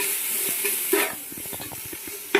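Three spoons of coconut oil heat in a pan for chicken curry, giving a steady sizzling hiss broken by a few sharp spoon scrapes.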